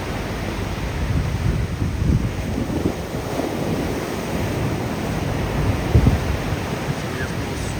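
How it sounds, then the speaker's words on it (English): Caribbean Sea waves surge and crash under strong gusting wind during Hurricane Melissa off Jamaica, a continuous roaring wash with heavy wind buffeting on the microphone. "But this is the Caribbean Sea right now."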